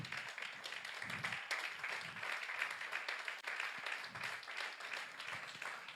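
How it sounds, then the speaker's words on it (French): A church congregation at a French sermon breaks into steady, sustained applause, a dense wash of many hands clapping at moderate distance that keeps on evenly without pause. "Est-ce qu'on peut acclamer pour la parole de Dieu?"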